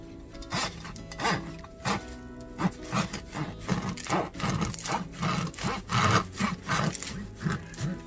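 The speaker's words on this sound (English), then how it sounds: "I'm going to cut into it and I'm going to show you what the inside looks like." A knife saws back and forth through a crusty loaf of sourdough bread, rhythmic rasping strokes about twice a second, close and clear with no talking.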